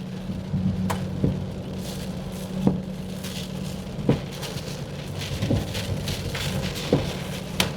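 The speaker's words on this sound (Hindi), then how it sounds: "बहुत तेज हो गया है रे बारिश भैया," A steady hiss of heavy rain drums on a surface, with occasional louder knocks and taps cutting through the constant downpour.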